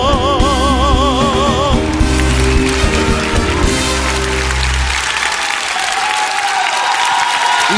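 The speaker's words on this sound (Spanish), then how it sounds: "Fuerte el aplauso" A studio audience gives loud, sustained applause, a dense wash of clapping. Music plays underneath at first and drops away partway through, leaving the applause alone.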